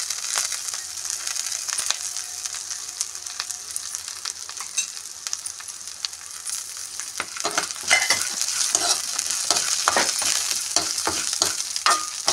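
Curry leaves, green chilies and ajwain frying in hot oil: a steady close sizzle that grows busier and crackly halfway through as a spatula stirs and scrapes in quick strokes, with no talking.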